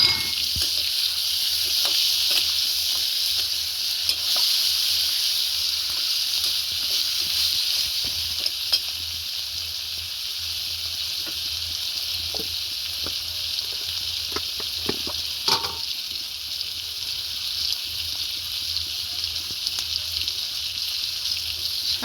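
Chopped tomato with chilli powder and spices fries in a pan as a loud, constant sizzling hiss, with occasional light ticks and one brief scrape of stirring, no voices.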